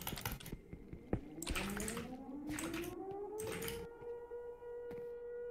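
A tornado siren in Minecraft slowly rises in pitch and holds a long wail, with clicking and bursts of noise over it and no talking.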